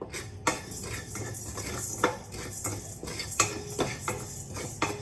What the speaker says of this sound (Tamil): எல்லாத்தையும் ட்ரை ரோஸ்ட் பண்ணிக்கலாம்